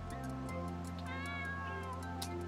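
A cat meows in a video game, a clear sustained cry over a steady low musical hum, heard alone without talk.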